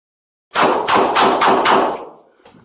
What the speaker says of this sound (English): Bravo, shots fired.